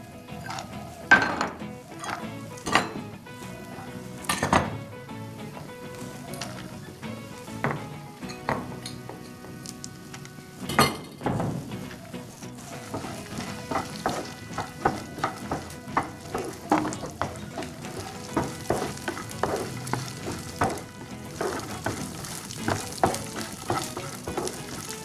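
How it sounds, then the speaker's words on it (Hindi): Chopped dry fruits frying in ghee in a pan, with a steady crackling sizzle and repeated close spoon scrapes and clinks against the metal, sparse at first and then growing into dense, continuous stirring. "उसमें हम कटा मेवा डालेंगे और उसको अच्छी तरह से भून लेंगे"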